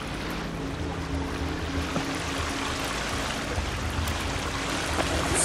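Water trickling and flowing inside a cave, heard as a steady, fairly quiet rushing wash with a faint low hum underneath, continuous and without talk.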